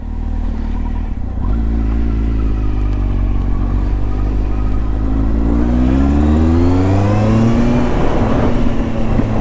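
A Kawasaki Z1000 motorcycle engine runs steadily nearby, a deep rumbling idle that swells into a smooth rising rev toward the end, loud and continuous with no talking.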